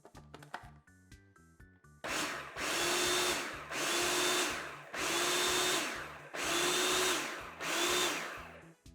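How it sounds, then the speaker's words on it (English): Food processor pulsing dry baking ingredients for strawberry crumb bars, five loud close bursts of motor whir about a second each separated by short pauses, after a quieter rattling start. "Now we're just going to put the lid on our food processor and just pulse everything until all of our dry ingredients are nicely combined."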